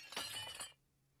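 Glass shattering in the visual novel Rewrite+, one sharp crash with tinkling shards spilling for under a second before falling quiet, heard alone.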